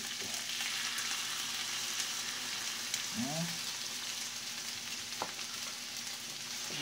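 Egg frying in a pan of home-cooked fried rice gives a steady, moderately loud sizzle throughout, with a brief voice-like sweep and a sharp knock near the middle.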